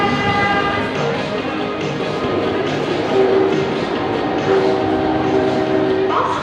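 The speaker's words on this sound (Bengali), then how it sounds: "এই যে মেট্রো ঢুকছে" A Kolkata Metro train pulling into Esplanade station on the Howrah Maidan route, with a steady loud rumble, rising wheel and brake tones, and a faint horn-like whistle over platform bustle.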